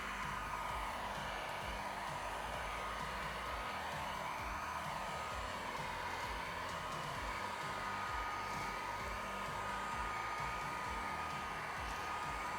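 Heat gun blowing a steady, loud, hissing stream of air while warming vinyl wrap on the A-pillar edges of a Cybertruck, holding at a constant level throughout with no speech.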